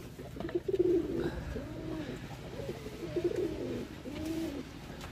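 Pigeons in a rooftop loft, including young birds, give several rounds of low rolling coos in a steady, repeated rhythm, close and moderately loud against faint background noise.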